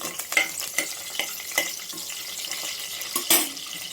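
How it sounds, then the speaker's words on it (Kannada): Cloves, cardamom and green chillies frying for a tomato bath, a soft steady hiss broken by several sharp clinks and scrapes of stirring, close and fairly quiet with no talk. "3-4 ಲವಂಗ, 1 ಏಲಕ್ಕಿ, ಒಂದು 2 ಹಸಿಮೆಣಸಿನ್ಕಾಯಿ ಹಾಕಿ ಒಂಚೂರು ಫ್ರೈ ಮಾಡ್ತೀನಿ."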